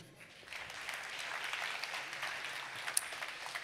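Applause from a conference audience at a network meeting, a steady wash of clapping at moderate level that rises after a soft start and carries on without talk.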